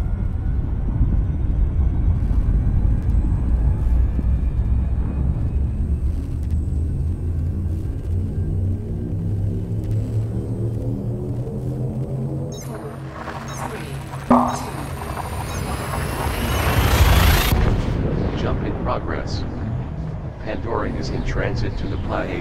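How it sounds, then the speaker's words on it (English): Spaceship drive in a video game spooling up with a deep rising rumble and climbing tones, ending in a loud swelling jump burst, under a synthetic announcement voice. "Attention, drive charging."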